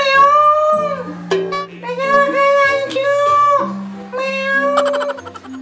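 A cat meows loudly and close by in a series of drawn-out, wavering cries that repeat one after another over a low steady tone.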